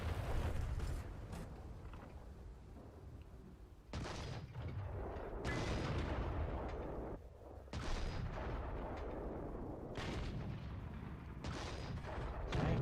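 Artillery fire in World of Tanks, heavy booming impacts arriving at intervals with rumbling tails, loud and fairly close, with no talk.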